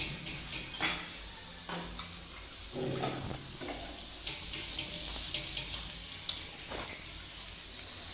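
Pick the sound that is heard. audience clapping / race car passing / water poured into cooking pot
water poured into cooking pot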